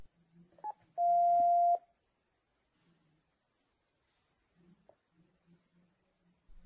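A single clear keypad beep sounds on a Panasonic KX-TES824 phone system, a steady tone under a second long, with faint clicks and quiet room noise around it.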